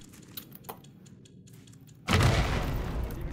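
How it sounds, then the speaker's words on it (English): A bomb goes off in the survival video game Raft, a sudden heavy boom after quiet ticking and clicks, leaving a loud rumbling roar that lingers to the end. "Bomb!"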